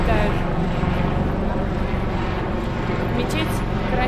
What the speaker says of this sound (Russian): Смотрите, вертолеты здесь везде летают.